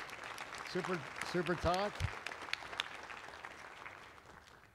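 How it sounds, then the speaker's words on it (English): Audience applause after a talk at a consciousness science plenary session, steady moderate clapping that runs throughout, with a person speaking a few words over it early on. "Let's give her a great round of applause"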